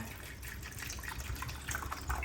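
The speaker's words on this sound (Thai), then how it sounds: "นี่นะเราทำการเทน้ำลงไปนะครับท่านผู้ชมนะ" Water poured into the reservoir of a budget automatic drip coffee maker, a steady close splashing and trickling stream that runs on without pause.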